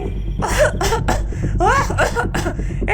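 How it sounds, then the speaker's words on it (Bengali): Several hoarse, raspy coughs in quick succession, close and fairly loud, with a strained throaty sound between them. "ওপর থেকে শাকচুন্নির কাশির আওয়াজ ভেসে এলো"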